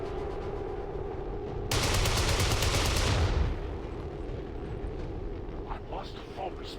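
In the XCOM strategy game, a grenade blast and gunfire erupt in a loud burst of crackling shots and a booming explosion lasting a couple of seconds, then a rumbling tail and scattered impacts.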